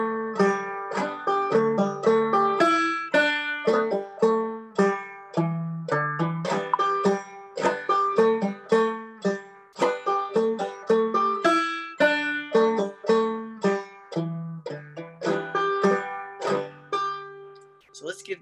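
A banjo picks the B part of a Southwest Virginia tune, brisk and bouncy with quick plucked notes in a steady rhythm, played solo and close for the whole stretch.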